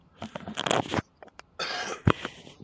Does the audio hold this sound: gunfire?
no